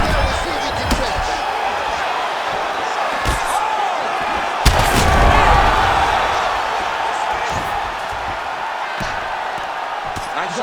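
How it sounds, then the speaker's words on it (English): Strikes land with sharp thuds in a UFC 5 video game fight between Dustin Poirier and Alexander Volkanovski, a few scattered impacts and one heavy slam under a crowd's roar while a commentator talks throughout. "Really good job to land these strikes from top position."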